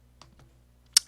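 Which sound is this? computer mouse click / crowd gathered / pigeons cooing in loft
computer mouse click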